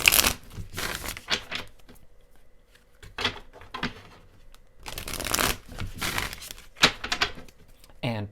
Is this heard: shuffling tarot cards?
yes